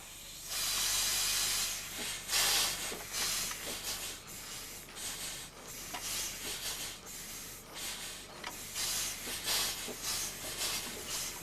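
A farm steam traction engine hisses loudly and continuously, with rhythmic surges of escaping steam swelling and fading over a steady background roar, close by and without talk.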